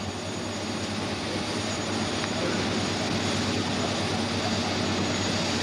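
Airplane near Libreville airport in Gabon, a continuous loud engine roar filling the whole stretch with no break.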